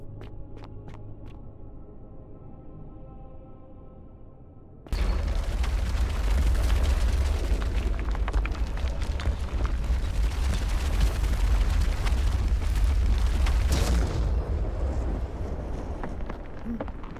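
Boulder smashed apart in The Forgotten City, a sudden heavy crashing burst after quiet ambience, followed by a sustained loud rumbling roar that gradually fades.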